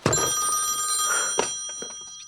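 A telephone bell rings loudly and close by, its bright repeated trill filling the short stretch with no talking over it.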